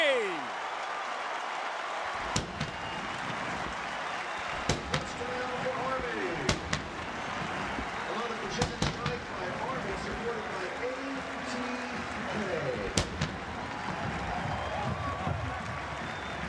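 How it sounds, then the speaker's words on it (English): Celebratory cannons fire after a touchdown at a college football stadium by Lusk Reservoir, several sharp booms spaced across the stretch, some echoing, over steady crowd noise and an announcer talking. "Resounding thunder across Lusk Reservoir"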